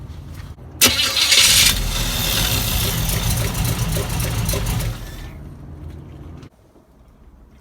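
A 1974 Chevy C10 pickup engine cranks briefly on a new gear-reduction starter, catches and fires up loudly, runs at a steady idle, then shuts off, leaving near silence.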